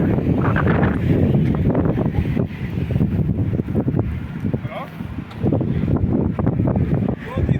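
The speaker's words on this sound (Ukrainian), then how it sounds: "а тут якась місцина така вітряна біля барбакана" Gusty wind buffets the microphone in heavy rumbling bursts while people talk over it outdoors near the Barbican in Kraków, Poland.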